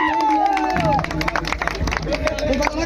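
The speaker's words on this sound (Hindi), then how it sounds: "जोरदार ताली बजाइए हमारे छोटे भाई के लिए।" Crowd applause and cheering at a lively Bhojpuri stage show, loud and sustained for about three seconds, with a voice on the microphone and crowd babble over the clapping.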